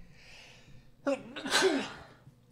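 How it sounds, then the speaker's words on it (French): One loud, nearby sneeze with a short inhaled build-up, then fading breath into quiet. "Je vais éternuer."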